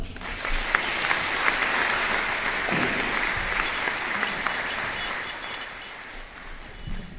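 Graduation audience applauding at a 2021 high school ceremony, a steady wash of clapping that carries on for several seconds at moderate level, heard from within a large hall.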